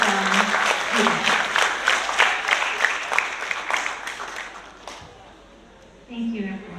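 Graduation ceremony audience at a primary school applauding a student, steady enthusiastic clapping with a few cheers that gradually thins out and fades, followed by a voice speaking at the end.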